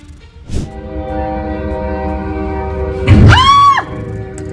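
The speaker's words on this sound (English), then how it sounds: "In Indonesia, a train collided with a large truck, resulting in a fiery explosion." A train in Indonesia colliding with a large truck: a loud, sustained rumble with a brief thud near the start, then a blaring horn-like tone swelling near the end, close and intense.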